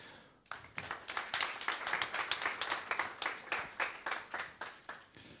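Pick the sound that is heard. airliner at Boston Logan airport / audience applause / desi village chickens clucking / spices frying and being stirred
audience applause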